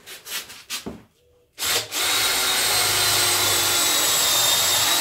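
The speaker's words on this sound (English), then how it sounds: "And then you just simply drill through it." A power drill bores a pocket hole in wood for a built-in fitted wardrobe: a few short handling knocks, a brief pause, then a loud, steady whirring drill run that lasts several seconds.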